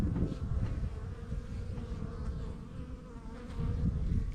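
Honey bees buzz steadily at a hive entrance, a dense low droning swarm that stays close and continuous throughout, with some workers carrying pollen in for brood rearing; no voices.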